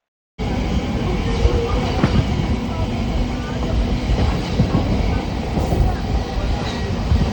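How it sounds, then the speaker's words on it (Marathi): A Karjat local commuter train runs along the line, heard from inside as a loud, steady rumble and rattle of wheels on rails with faint clacks throughout. "आता आपण कर्जत लोकल पकडून चाललेलो आहे सिया फार्म हाऊसला"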